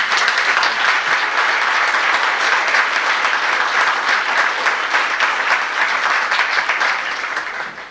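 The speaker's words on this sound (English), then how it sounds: "I think you deserve a nice round of applause for that" Loud, sustained applause from a large audience at a high school senior sports banquet, steady dense clapping for about eight seconds before easing slightly at the end.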